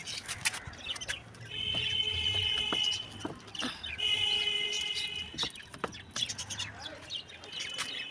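Birds chirp from a rooftop in bursts of bright, repeated calls over faint outdoor background noise, with short pauses between phrases.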